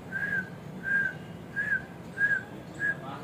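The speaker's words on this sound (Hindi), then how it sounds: "मिट्टू सीटी बहुत अच्छी मारने लगा" A four-month-old pet parrot whistles five clear, short, evenly spaced notes at steady pitch, fairly faint against a quiet indoor background.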